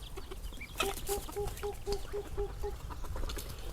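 Chickens cluck in a quick, evenly spaced run of about ten short clucks, fairly faint against a quiet farmyard background.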